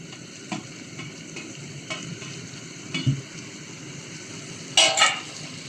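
Chopped tomatoes are stirred in a cooking pan, with a low sizzle under several scraping strokes and one louder clatter of the utensil near the end.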